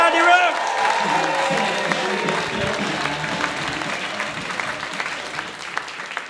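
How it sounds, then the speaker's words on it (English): A comedy night audience claps and cheers to welcome comedian Andy Roach, a loud dense burst of applause with a few whoops that gradually thins, a voice briefly heard underneath. "Please start clapping"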